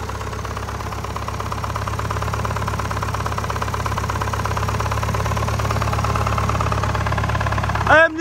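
A used original Isuzu 4KH1 diesel engine runs at a steady idle with an even low rumble and a rhythmic knock. It stays constant and fairly loud, and a short squeal comes at the very end.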